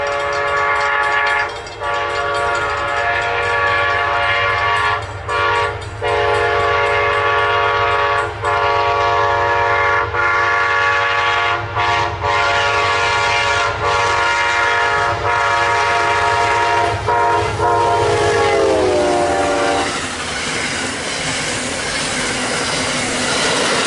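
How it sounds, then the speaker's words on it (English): Amtrak Palmetto passenger train P090 passes northbound on the main track, rumbling loud and close for the whole stretch with sustained horn blasts and steady wheel and rail noise that drops away near the end. "here comes Amtrak PO90, Northbound, Palmetto coming by Micro on the main track"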